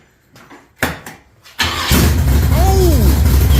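A 383ci Blueprint V8 in a 1966 Chevy Impala SS cranks briefly, then fires and settles into a loud, rough, continuous rumble, with a voice shouting over it.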